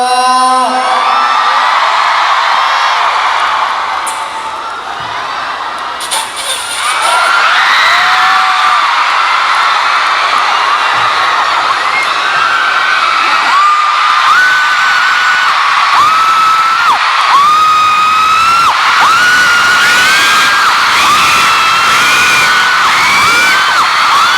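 A concert crowd at an SS5 show in Bangkok screams and cheers continuously, a loud dense wall of high-pitched shrieks and whoops with rising squeals throughout.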